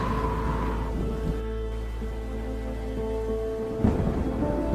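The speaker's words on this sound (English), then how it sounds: "The crackle of thunder is not as loud anymore." Heavy thunderstorm with a continuous wash of loud rain and a low, steady rumble of thunder that swells briefly near the end, close and enveloping.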